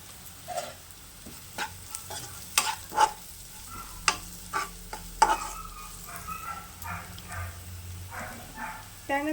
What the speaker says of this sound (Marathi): अर्धा चमचा मीठ, पाव चमचा हळद पावडर आणि 2 चमचे लाल तिखट हे तेलामध्येच भाजून घ्यायचं